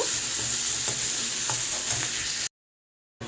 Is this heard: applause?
no